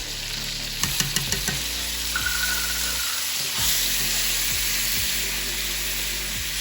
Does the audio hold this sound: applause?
no